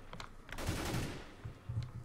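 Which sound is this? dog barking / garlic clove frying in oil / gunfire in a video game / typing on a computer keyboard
gunfire in a video game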